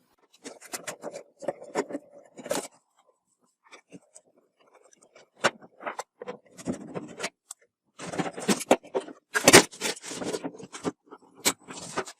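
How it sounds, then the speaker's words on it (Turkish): Phillips screwdriver working screws loose on a dishwasher's access panel, giving intermittent close scraping, clicking and rattling bursts with brief pauses between them and no talk. "Genelde yıldız tornavida kullanılıyor buralarda. Açalım hemen."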